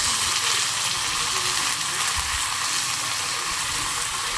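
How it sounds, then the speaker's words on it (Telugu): Peanuts fry in hot oil for a tempering, giving a loud, continuous hissing sizzle with faint stirring clinks and no voices. "అది పల్లీలు మంచిగా బ్రౌన్ వచ్చినాయండి"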